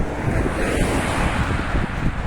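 Strong wind gusting outdoors, a continuous rumbling roar buffeting the microphone with no talking.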